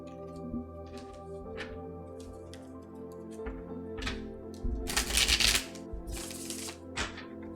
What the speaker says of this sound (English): Actually, I'm going to practice my poker shuffling